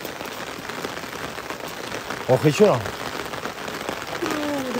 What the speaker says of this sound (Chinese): 哦，我的天呐，下雨了。